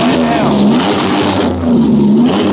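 A loud demolition derby van engine with its exhaust cut off revs up and down in raw, rasping waves with a harsh exhaust note, rising twice over a rough idle.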